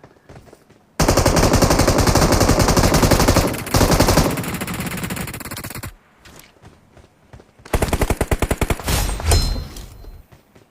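Automatic rifle fire in the PUBG battle royale game, with long loud rapid bursts from Groza and M416 rifles, a brief pause, then more bursts and scattered shots.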